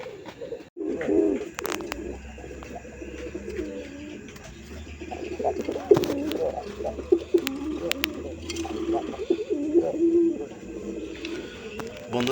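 Many pigeons cooing continuously at a pigeon market, with overlapping soft throaty coos over a busy background of rustling and occasional knocks.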